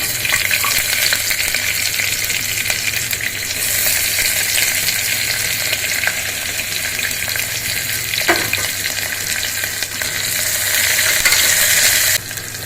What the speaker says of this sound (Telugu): కొద్దిగా ఉల్లిపాయ ముక్కలు ఇట్లా ఎర్రగా వేగిన తర్వాత